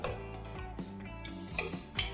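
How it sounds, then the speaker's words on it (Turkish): A metal pot lid lifted and chicken thighs turned with a fork in a pot of turmeric rice, with several close, bright clinks and scrapes of metal on metal in a quiet kitchen. "Tenceremin kapağını açıyorum. Şöyle bir çatal yardımıyla çeviriyorum."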